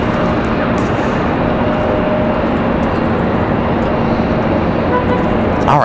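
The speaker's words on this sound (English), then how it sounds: "That noisy CRJ finally on the move out of here." Noisy CRJ regional jet taxiing out at Raleigh-Durham airport, a broad steady jet rumble and roar heard from a distance, continuous throughout with faint talk underneath.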